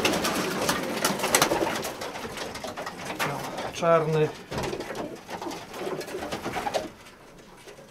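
Pigeons coo close by in an enclosed space, with rustling and someone speaking briefly between the calls.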